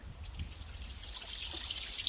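Water trickles and streams steadily from a non-powered ram pump set in a creek to feed a water tank, a continuous, fairly quiet splashing flow with no talk.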